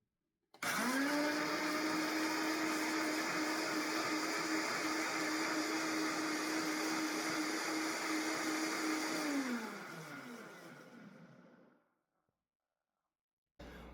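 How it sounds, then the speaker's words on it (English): A blender starts abruptly and runs at a steady high whir for about nine seconds blending watermelon juice, then slows and winds down to silence. "Put all the ingredients in your blender and blend to a nice texture"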